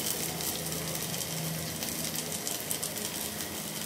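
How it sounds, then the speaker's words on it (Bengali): Onion and slit green chilies frying in hot oil on a stove: an even, continuous close sizzle with fine crackling, steady throughout and without speech. "দেখুন চুলায় গরম তেলে হচ্ছে পেঁয়াজ আর ফালি করে কেটে রাখা কাঁচামরিচ দিয়ে দেওয়া হয়েছে"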